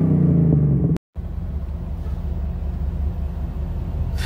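A car with a modified exhaust rumbles loud and close with a throaty tone, briefly cutting out before resuming a steady low idle roar.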